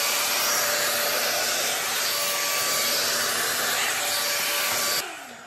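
An ALDI hot air brush, a budget hair-dryer styler, blows with a steady loud airy whoosh and faint motor whine for five seconds before switching off and trailing away, heard up close without talk.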